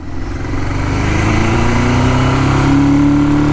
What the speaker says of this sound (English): See, there's that bog, so we'll go into second. Yeah, it's bogging again.